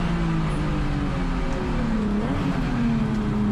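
A USTCC touring race car accelerates through turn 7 at Sonoma Raceway, its engine note climbing and shifting pitch as the throttle reopens, heard loud and close from onboard.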